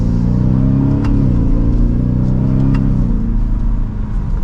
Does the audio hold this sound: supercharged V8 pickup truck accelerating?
yes